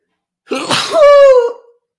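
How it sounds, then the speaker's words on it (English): One loud, close sneeze, a sharp breathy burst that ends in a short, tonal, voiced tail, with silence before and after. "Sorry, I sneezed."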